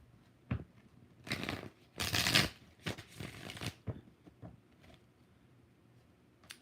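Tarot cards shuffled by hand in several quick riffling bursts, crisp papery flutters and taps separated by short pauses, close and fairly quiet.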